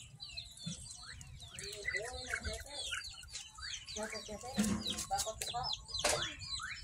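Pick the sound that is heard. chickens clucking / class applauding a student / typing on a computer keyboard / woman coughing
chickens clucking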